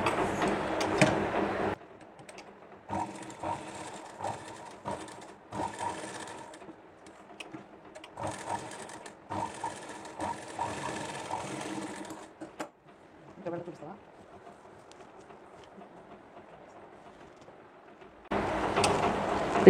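Tailoring sewing machine running an edge stitch with the presser foot, in several bursts of rapid whirring stitching separated by pauses, close up, with a voice talking in between.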